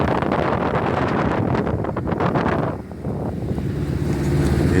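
A boat's engine runs steadily at about 2,200 RPM during a sea trial, a continuous drone heavily buffeted by wind noise, with a brief dip in the rush midway.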